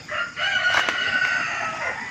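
A chicken calls out close by in a short, raspy burst over a steady background hum, with no talking.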